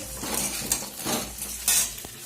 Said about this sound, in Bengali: আলুটা আমি ভাজতে বসিয়ে দিয়েছি, আলুটা ভাজা হচ্ছে।